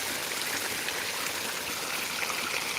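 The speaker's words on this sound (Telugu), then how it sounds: "నేనైతే పొలం దగ్గరకు వచ్చాను నీళ్ళు పెట్టడానికి" Irrigation water flows steadily into a farm field, a close, even rushing and trickling with no voices.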